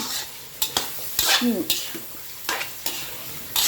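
Pork being stir-fried in a pan: a spatula scrapes and clatters in repeated sharp strokes over a continuous bright sizzle, close and loud, with no talking.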